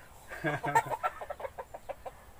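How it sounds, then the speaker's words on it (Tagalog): Upgraded native chickens in a backyard breeding pen cluck in a quick, uneven series of short calls, moderately close, with light background noise. "So ayan, upgraded native chicken."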